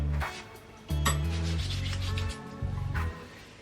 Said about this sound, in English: I'll just start by rubbing it all the way through my hair.